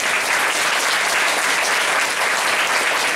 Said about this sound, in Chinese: 那我们现在就是先热烈掌声哦，欢迎报道者的总编辑何荣信先生。